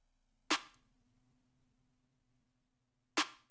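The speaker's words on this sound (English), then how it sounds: "So here's the kick. Got the snare." A drum kick and snare from a produced song play as two sharp, quiet single hits about three seconds apart, each with a short decay over near silence.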